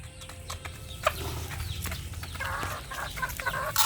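Backyard chickens, including young stags, cluck and call steadily at close range while being fed, with sharper squawks rising in the last couple of seconds.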